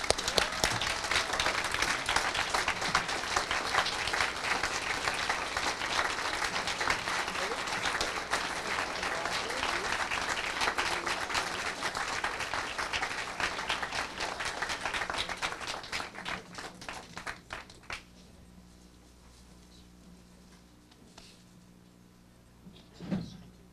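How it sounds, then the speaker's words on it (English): An audience at a debate championship gives a sustained round of applause, a dense, even wash of clapping that continues for about fifteen seconds, then thins out and fades to scattered claps and room noise. "So please give them a round of applause."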